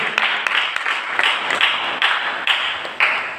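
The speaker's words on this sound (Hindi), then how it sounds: "सभी के लिए एक बार ताली" An audience at a school sports festival and poets' gathering claps for everyone, a brisk, fairly close patter of hands that swells in several quick bursts over a few seconds.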